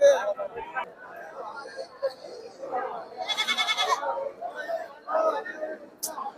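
Goats bleat at the Chikkanayakanahalli sheep market, one strained, wavering bleat standing out for about a second amid the murmur of people talking and bargaining nearby.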